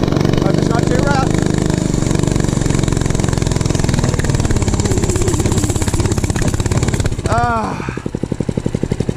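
A small dirt bike engine strains up a rough, loose sandy hill, a loud, close buzzing drone that rises and labors throughout, with a brief voice cutting in near the end.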